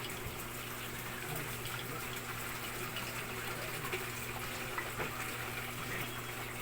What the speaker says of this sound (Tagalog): butangan na to og tubig na 75 ml